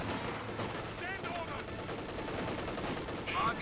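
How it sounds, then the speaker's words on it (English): Gunfire from Company of Heroes 2, with an infantry section shooting at Panzer Fusiliers, heard as quiet scattered bursts under faint game ambience and brief voice-like sounds. "We've got the Kuhwagen firing some hits there."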